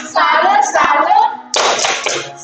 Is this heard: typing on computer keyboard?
no